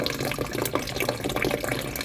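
Water runs steadily into a toilet cistern with a faulty fill, a continuous close rushing and trickling flow with no talk over it.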